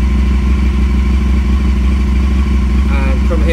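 Aprilia Caponord motorcycle engine idling steadily up close with a constant low drone, a brief rise in revs near the end while it is connected for a TPS and fuel trim check.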